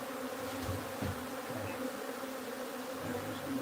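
Bees from a wild beehive being moved into a new box buzz in a dense, continuous drone. It is close and steady for the whole stretch, with individual insects rising briefly above the swarm and no talking.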